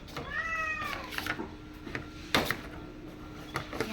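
A cat meows with a rising, drawn-out cry near the start, followed by a few soft knocks and clatters in a quiet room.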